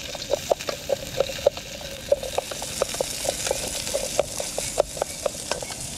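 Onion frying in a pan outdoors, with a steady sizzle under repeated sharp stirring clicks and scrapes in an irregular rhythm, close and fairly loud, with no talk.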